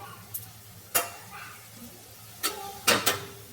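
Cabbage frying in a pan is stirred with a spoon, giving a soft sizzle under a few sharp scraping clacks against the metal, close and fairly quiet.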